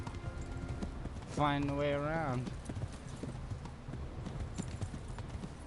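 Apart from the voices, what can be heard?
horse hooves clip-clopping in a video game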